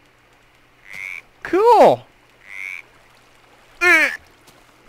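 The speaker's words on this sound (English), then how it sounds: "A frog! That's what I was hearing! It's a frog!" Two loud, bouncy frog croaks from a Minecraft frog ring out close by, each a rising-falling warble, with softer chirps between them; a person briefly speaks in between.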